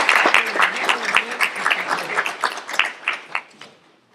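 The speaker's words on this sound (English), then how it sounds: "Let's give them a round of applause, everybody." A small audience claps for candidates at a Republican candidate forum, with distinct individual claps that thin out and fade toward the end.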